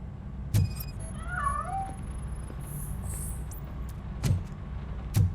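In the video game RoboCop: Rogue City, a hidden cat lets out a short wavering meow that swoops up and down, set over game ambience with a few thuds and a thin high tone, and no voices.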